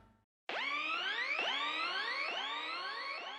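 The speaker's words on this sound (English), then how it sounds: "It's kind of like a siren sample." A layered synth siren rises in repeated sweeping glides, four swelling upward whoops in a row, bright and sustained with no voices.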